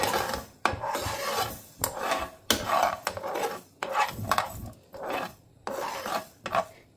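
Ingredients for a homemade natural hair dye roasted and stirred in a pan, repeated scraping rasps in uneven strokes with short pauses, close and fairly loud.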